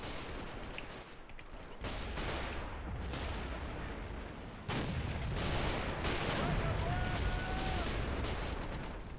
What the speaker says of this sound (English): Mortars are doing a great job